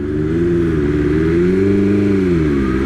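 A BMW S1000RR sportbike runs in its highest riding mode, its engine a loud, close, steady drone whose pitch rises and falls gently as it rides on.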